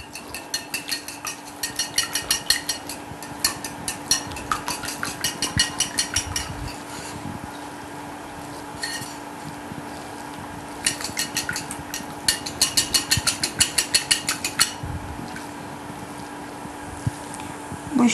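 Eggs beaten by hand in a bowl in a home kitchen, with quick rhythmic bursts of clinking whisk or fork strokes against the bowl, pausing and resuming in steady runs over a low background hum.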